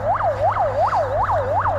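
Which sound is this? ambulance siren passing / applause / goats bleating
ambulance siren passing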